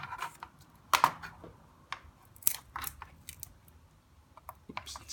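Scissors make sharp, crunchy snips through a piece of material, a few isolated close cuts with quiet handling noises between them.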